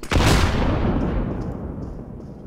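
A flashbang grenade detonating in CS:GO: one loud, close bang that rings out into a long, fading, noisy tail lasting a couple of seconds, with no voices.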